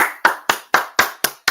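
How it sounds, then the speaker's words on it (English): A group clapping hands in unison at a steady beat, about six loud, sharp claps each with a brief room decay, heard close and without talk. "All right, let's clap it up."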